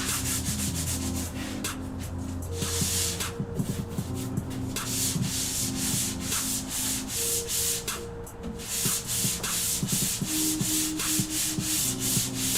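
Sandpaper rubs over a painted wooden dresser in steady close scratchy strokes with brief pauses, moderately loud against a low background hum.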